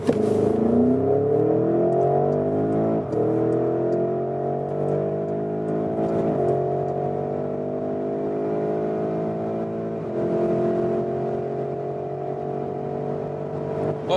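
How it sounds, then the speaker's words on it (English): Porsche Cayenne GTS Coupe 2021 with a 4-liter V8 bi-turbo, 460 horsepower, accelerating hard from a rolling start, a loud close engine roar climbing steadily in pitch, dipping briefly at each of several upshifts before pulling again. "what an impressive acceleration and great sound as well from this 4-liter V8 bi-turbo, 460 horsepower here in the GTS version"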